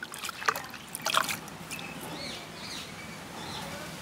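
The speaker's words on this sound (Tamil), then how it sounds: "கருவேப்பிலையும் கழுவி எடுப்போம்." Curry leaves are washed in water outdoors during village cooking. Soft splashes and trickling come up close, and faint birdsong carries in the background.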